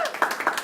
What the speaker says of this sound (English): let's welcome, with a rousing applause,